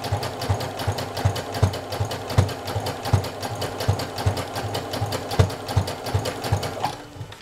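A sewing machine running a continuous stitch around the edge of a bra pad, with a rapid, even mechanical clatter that holds a steady rhythm for about seven seconds before it slows and stops.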